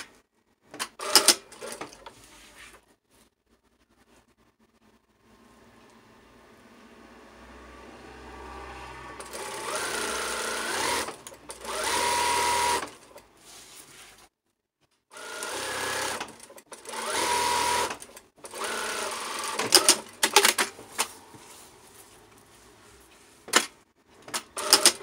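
A sewing machine stitching a fine topstitch along sheer curtain fabric, running in long whirring bursts broken by brief stops and short clacks, close and loud, with no one talking.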